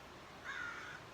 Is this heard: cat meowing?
no